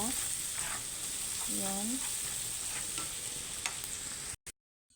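Garlic and a little ginger sauté in a pan with a steady, bright sizzle, a voice briefly speaking over it before the sound cuts off near the end.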